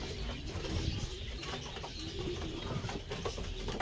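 Soft pigeon coos and faint rustling close by in a pigeon loft, over a steady low background hum.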